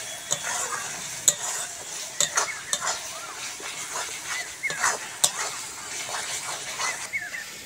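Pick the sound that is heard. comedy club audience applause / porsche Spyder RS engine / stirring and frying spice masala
stirring and frying spice masala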